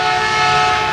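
A loud, steady rumble with a sustained horn-like tone, like a train passing close by.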